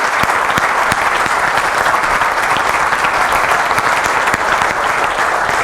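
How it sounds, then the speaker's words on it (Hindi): Loud, dense applause from a large audience, sustained steadily throughout with no voices over it. "ज़ोरदार तालियों से हम हिरेन भाई को वेलकम करें."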